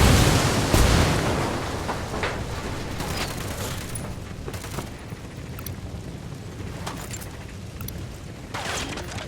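A grenade goes off in Tom Clancy's Ghost Recon, a loud, close blast that opens the clip and decays into a rumbling wash of noise, with scattered distant pops and bursts continuing afterward.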